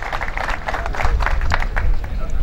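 Applause from a gathering rises slightly, a steady patter of clapping mixed with murmuring voices from the crowd.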